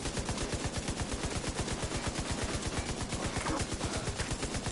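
Rapid automatic gunfire from The Division 2 video game, a steady stream of close, loud shots firing without pause throughout, with no talking.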